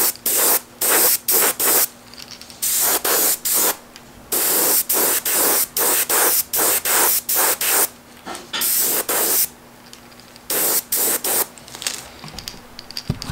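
Repeated short bursts of an aerosol spray can coating a fishing crankbait lure during a repaint, crisp hissing puffs of varying length with brief gaps, close and loud, no talking.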